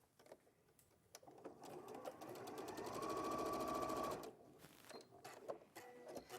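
A sewing machine runs a close, steady burst of rapid stitching for about three seconds while attaching a rib band to the bottom of a hoodie, with quieter handling sounds and short starts before and after.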